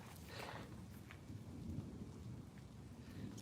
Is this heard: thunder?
yes